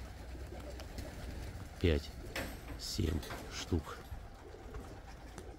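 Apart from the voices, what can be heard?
white pigeons cooing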